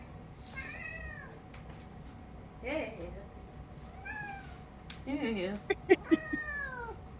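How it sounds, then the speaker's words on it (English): Pet cat meowing indoors, several drawn-out meows spaced apart then a quicker burst of cries near the end, close and fairly loud, with a person briefly speaking in between. "Kitty noises are the best."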